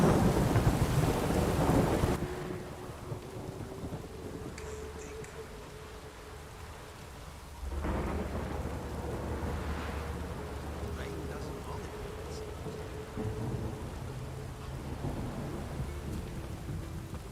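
Steady rain with low rumbling thunder in The Witcher 3, a loud burst at the start and another swell midway, continuing under a faint tonal hum.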